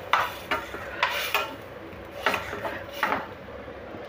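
A spoon scrapes and stirs inside a pot of coconut milk kurma curry in repeated soft strokes, with faint clinks and a gentle bubbling background.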